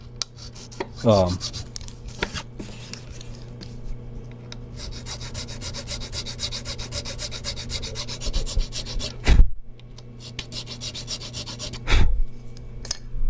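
Slow, steady rubbing rasps from a file working the string slot of a guitar nut during a refret and setup, close and continuous with a few sharper scrapes near the end.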